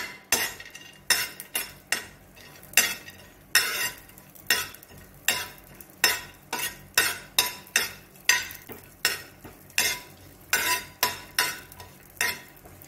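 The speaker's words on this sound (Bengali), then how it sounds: "আমি ড্রাই ফ্রুটসগুলো একটুখানি রোস্ট করে নিচ্ছি।" Dry fruits being roasted in a pan for egg halwa, with a spoon scraping and stirring in a steady, repeated rhythm over a light sizzle, close and clear, with no talking.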